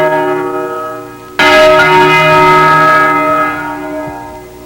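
A church bell strikes loudly over a lingering ringing hum, its bright tone ringing out and slowly fading, heard from an analog TV broadcast recording with poor signal.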